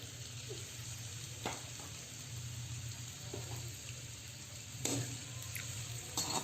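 Onions frying in hot cooking oil in a pot over a flame, a faint, continuous sizzle with a couple of soft utensil clinks, no talking.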